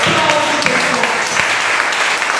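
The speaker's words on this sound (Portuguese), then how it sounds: "Aplaude bem forte." A church congregation claps loudly during a midweek spiritual battle service, dense applause running throughout with scattered sharper claps and some voices mixed in.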